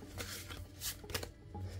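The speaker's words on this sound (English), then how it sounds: "I'm just going to shuffle real quick." Oracle cards are shuffled by hand in a few quick riffling bursts, close and fairly soft, with no talking over them.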